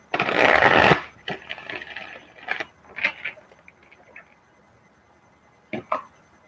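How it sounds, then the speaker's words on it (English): Tarot cards are shuffled close up: a dense riffling burst opens, followed by scattered softer card slaps and flicks, then a short final pair of snaps. "One more shuffle."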